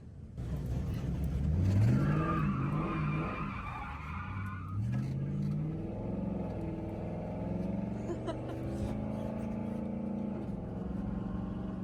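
A Mustang car revs hard and accelerates, its engine note climbing, then the tires skid and squeal as the loud engine roar carries on and settles into a steady drone.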